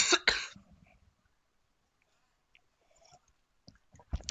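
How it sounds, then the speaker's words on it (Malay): A teacher coughs during an online class: one close, harsh cough-and-throat-clear burst at the start, then near silence with faint clicks. "kalau cakap banyak sikit nak terbatuk"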